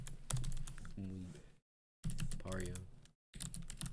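A computer keyboard clicks in quick taps during a beat-making session, with voices talking and tonal sounds over the typing.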